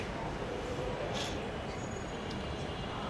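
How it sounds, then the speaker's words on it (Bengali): A Dhaka-bound metro rail train arrives at Uttara North station, its steady rumble and rushing noise filling the platform at constant loudness, with a brief brighter squeal partway through. "ঢাকা অভিমুখী মেট্রো রেলটি"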